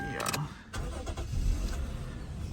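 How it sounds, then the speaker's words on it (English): A 1997 Toyota Mark II Grande with a 2.5-litre 1JZ-GE inline-six turns over and starts, a brief cranking burst that settles into a smooth, close engine run. "So engine starts very good."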